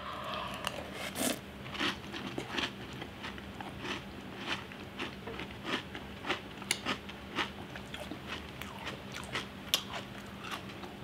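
Soft, wet chewing and biting of a pizookie, a baked cookie topped with ice cream, coming as a close, irregular series of small crunches and smacks with no talking.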